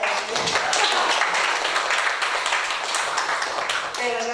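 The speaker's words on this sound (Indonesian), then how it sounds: "Tepuk tangan dong buat saya." An audience at an openSUSE conference talk bursts into applause, a dense, steady patter of many hands clapping at close range that holds for several seconds before easing off.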